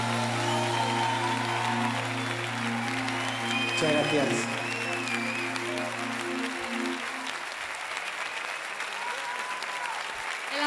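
Studio audience applause for a singer, steady clapping over music that stops partway through, with a brief spoken thanks near the start.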